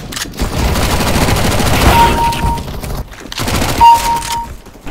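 Rapid bursts of gunfire from a first-person shooter game ring out loud and close, in quick repeated volleys with brief pauses between them.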